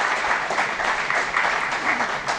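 Applause from the audience at an award ceremony during a horticulture conclave valedictory, a short burst of dense, steady clapping heard on its own.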